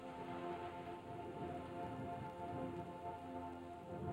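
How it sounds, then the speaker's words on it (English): Steady rain falls in a dense, even patter across the whole stretch, with faint tonal hum in the background and no voices. "animals are happy when it rains because they know rain means water and water means life"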